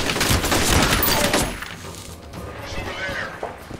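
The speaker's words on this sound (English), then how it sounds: "I blew up your grenade." A grenade exploding in the PC shooter F.E.A.R., a loud close blast tangled with gunfire that fades into a quieter rumbling tail.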